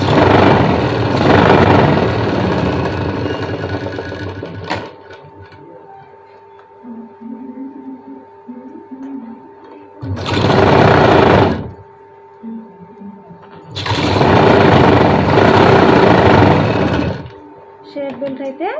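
A sewing machine stitches the shape belt of a blouse in a few loud bursts of whirring, separated by quieter gaps. Someone talks over the machine between the runs of stitching.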